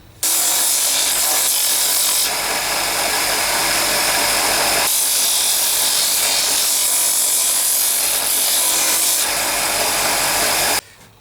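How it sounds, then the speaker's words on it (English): A bench sander grinds down a modified angle-arm part with a loud, continuous abrasive rasp that starts abruptly, holds steady with slight shifts in pressure, and cuts off at the end. "take some meat off of this, and we'll do that on the bench sander"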